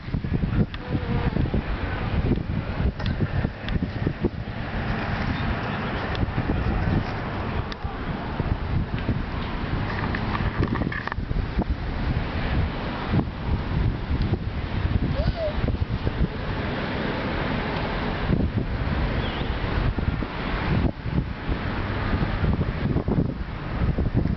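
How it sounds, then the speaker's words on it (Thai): Strong wind blowing steadily outdoors during flower picking, a loud broadband roar across the whole stretch with gusty fluctuations and faint buzzing like insects mixed in. "ลมแรงสิ"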